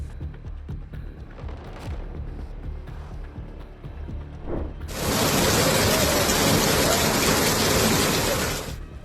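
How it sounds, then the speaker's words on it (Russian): Heavy rain showers in East Java's foothills, a dense hiss of downpour that swells suddenly and holds loud and steady for several seconds over a low rumble, with no talk. "Метеорологи предупреждают о сохранении высокой вероятности повторных ливней в предгорных районах Восточной Явы"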